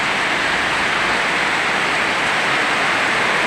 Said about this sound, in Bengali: দেখো বৃষ্টি হচ্ছে, বৃষ্টি হচ্ছে